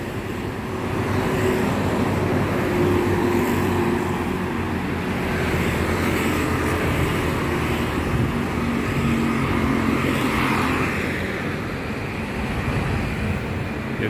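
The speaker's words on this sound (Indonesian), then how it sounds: "ada mobil Transjakarta lewat guys, sering lewat menuju ke terminal Pulau Gadung" A Transjakarta bus rolls past on Jalan Pemuda in Rawamangun, a broad steady engine rumble swelling and fading within the constant wash of city traffic, with no voices heard.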